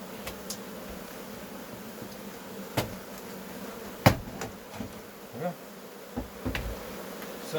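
Honeybees buzz steadily around an AŽ beehive being inspected on a windy day, a constant close drone broken by several sharp knocks and clicks of hive parts.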